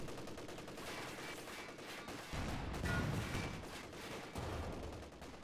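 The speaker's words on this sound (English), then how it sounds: "We've got an anti-tank volley from the six-pounder." An anti-tank volley from a six-pounder gun in a wartime strategy game, heavy shots and rattling fire layered over ongoing battle noise, swelling louder midway and again near the end, with no speech.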